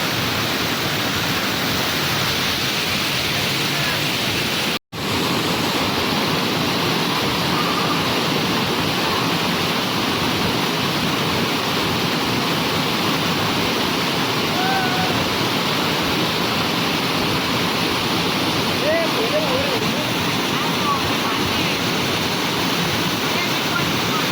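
Palasdari waterfall near Karjat roars in a dense, continuous rush of falling water, loud and close throughout with only a momentary break.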